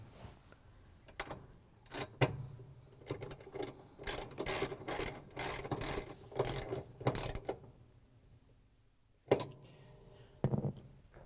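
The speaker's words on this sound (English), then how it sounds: "we're going to use the 3 8 inch socket with the ratchet and the extension again to put the bolt in" A ratchet with a 3/8 inch socket and extension drives a bolt into a GE washing machine transmission assembly, giving bursts of rapid clicking in several close runs separated by pauses.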